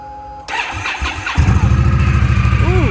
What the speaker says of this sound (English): let's crank her up real quick for you so you can see it